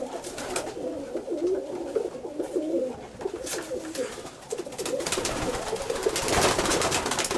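Pigeons kept in a loft coo in repeated, rolling phrases, close and clear, with soft rustling and flutter around them.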